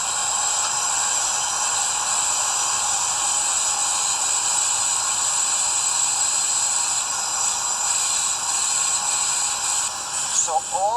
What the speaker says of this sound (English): You hear the sound of steam is coming.